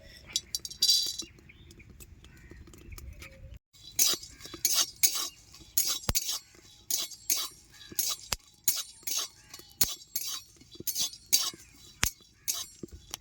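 Magaj melon seeds dry-roasting in a hot, empty wok, stirred with a spatula that scrapes and taps the metal in close, irregular bursts between quiet moments.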